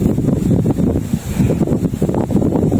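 Strong wind buffets the microphone on a mountain top at Khao Thalu Mitti in Chom Bueng, Ratchaburi, a loud continuous low roar with gusting surges and no voices.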